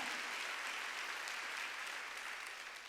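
A church congregation claps steadily and continuously during a Wednesday worship service, a dense even patter of many hands that fades slightly toward the end.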